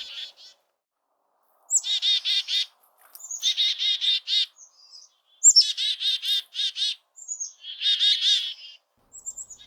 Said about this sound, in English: hearing the intense alarm calls of chickadees